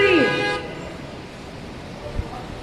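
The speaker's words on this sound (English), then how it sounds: "You hear people honking" A car horn honks at a street protest in Manhattan, a single loud blast at the start that cuts off after half a second, followed by a low city rumble and faint crowd noise.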